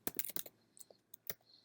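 Quiet typing on a computer keyboard: a quick cluster of key clicks, then a few scattered single taps, soft and close in an otherwise silent room.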